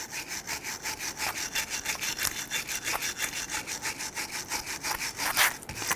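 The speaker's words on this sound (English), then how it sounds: "start using your wire brush and cleaning up all of the scaly rust that is on this" A wire brush scrubs scaly rust off rear brake parts on a 2006-2012 Toyota RAV4 in rapid, rhythmic back-and-forth strokes, close and harsh.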